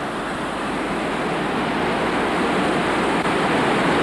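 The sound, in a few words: flooding river rushing water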